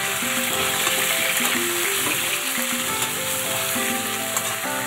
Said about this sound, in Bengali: আলুগুলোকে ভালো করে ভেজে নেব